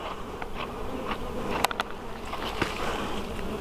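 Bees swarm around their nest outdoors in a steady, close droning buzz with a few faint clicks and taps on top, and no voices.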